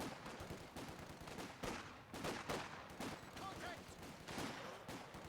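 Sniper rifle shots ring out in Company of Heroes 2, a handful of sharp cracks spaced a second or so apart over a busy, quieter battlefield backdrop of distant gunfire.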